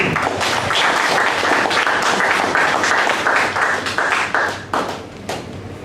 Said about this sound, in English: Please give a great applause.